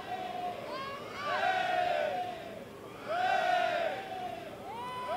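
Football crowd at an England v Austria match cheering and chanting in swelling waves, loud roars rising and falling over a steady stadium murmur.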